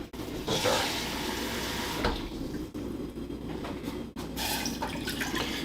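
Water running from a tap into a measuring cup in a kitchen, a steady close rushing stream with brief breaks and splashes, no talking.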